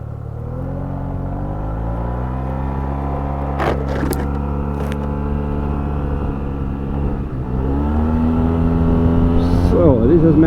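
A 2021 Yamaha TMAX 560 TechMAX scooter pulling hard at full throttle on the highway, its engine drone holding steady and rising gradually in pitch, with loud wind rush throughout and a few brief clicks.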